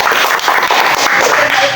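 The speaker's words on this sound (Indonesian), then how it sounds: "Tepuk tangan dulu." Group applause from participants at the close of a group counseling practice session, a brief burst of dense, overlapping clapping at steady loudness, close and filling the room for under two seconds.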